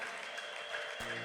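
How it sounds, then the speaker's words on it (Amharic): A congregation claps together at a live worship service, a steady, dense crowd applause ringing out, with a sustained keyboard tone entering near the end. "ከፍ አድርጉለት እልልታችሁን፣ ጭብጨባችሁ"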